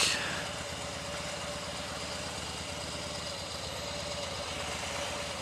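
A 2015 Harley Davidson Softail Breakout idles close by, its engine producing a steady, low, throbbing rumble that stays even throughout after a slightly louder start, with no talk over it.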